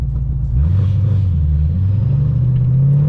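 A Ford Mustang GT engine rumbles low, then rises in pitch as it revs and shifts into second gear, a loud, close, continuous drone heard from inside the car.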